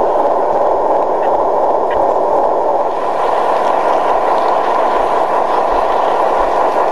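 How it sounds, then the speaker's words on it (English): A Revo-controlled model train runs steadily along a club layout, giving a continuous close, even rumble with light clicking from the track and no pauses. "That's Nico operating one of the Revo controlled trains with that little unit in his hand."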